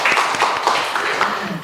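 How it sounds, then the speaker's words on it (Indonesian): Applause in a classroom for two students, Aldo and Nabil, a brisk, fairly loud patter of several people clapping with slightly uneven rhythmic bursts, heard close and on its own without speech. "kita beri tepuk tangan dulu untuk Aldo dan Nabil"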